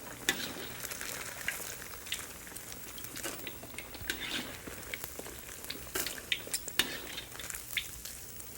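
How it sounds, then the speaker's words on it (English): Food deep-frying in hot ghee, a steady crackling sizzle with scattered utensil clinks and stirring, moderately close and without talk. "don't touch it while it's in the ghee until it starts to rise to the surface"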